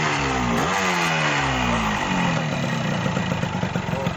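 A Yamaha RX King motorcycle's two-stroke engine runs loud and close, revving up and dropping back in repeated throttle blips over a steady idle, with no talk over it.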